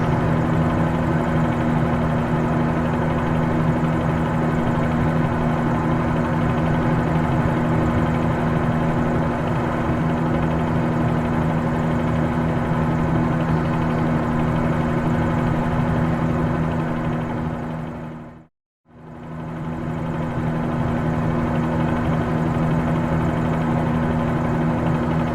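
Helicopter engine and rotor in steady flight in Microsoft Flight Simulator 2020, a loud, constant droning roar with a low hum, briefly cut to silence near the end before resuming.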